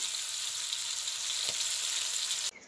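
Fish frying in oil with crushed garlic gives a loud, continuous sizzle close by, with one soft knock midway, before it cuts off abruptly near the end.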